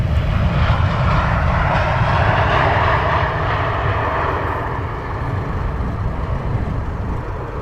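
Aircraft engines roar at Luton Airport, a loud, steady, broadband rumble and whine that holds for several seconds, close and continuous, with no talk.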